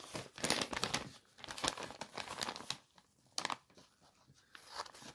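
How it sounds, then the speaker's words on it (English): Paper crinkles and tears in short bursts as an envelope from The Royal Mint holding a 100 g silver bar is opened with scissors, the quiet rustles coming in uneven clusters up close with brief pauses between. "I'll get some scissors and we'll cut this open."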